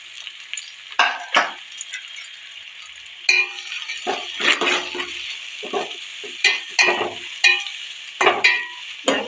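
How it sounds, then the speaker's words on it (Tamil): Onions sautéing in oil with cardamom, cinnamon and cloves in a pan for chicken kurma, soft frying under a series of distinct spoon-against-pan stirring strokes, close and fairly loud, no talking. "வெங்காயம் நல்லா வதங்கணும்"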